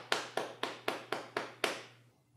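Seven crisp, evenly spaced claps made with one free hand while the other holds a glass of wine, close and quiet, with a faint steady hum underneath.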